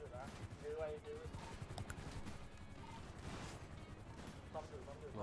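Rapid bursts of gunfire in a shooter video game sit low in the mix beneath excited voices talking over one another throughout.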